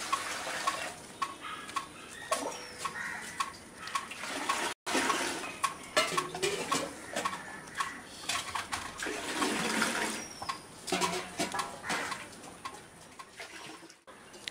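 Water being poured into a newly built aquarium tank for a leak test, a steady splashing and trickling run with bursts of louder gushing, close by and without speech.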